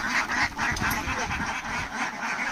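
Australian-breed ducks kept by a farm pond quack loudly and continuously as a group, their overlapping calls close and dense throughout.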